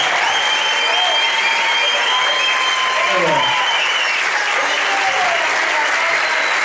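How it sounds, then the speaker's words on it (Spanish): A crowd gives loud, sustained applause, dense clapping with scattered whistles and cheers, steady for several seconds, with voices faintly audible underneath. "Por último, un fortísimo aplauso, por favor, aparte de pitos, flautas y aplausos,"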